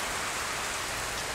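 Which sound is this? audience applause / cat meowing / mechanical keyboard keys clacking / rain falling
rain falling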